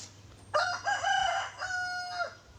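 A rooster lets out one full crow close by, a drawn-out, strained call that rises, holds and trails off over a couple of seconds against a quiet background hum.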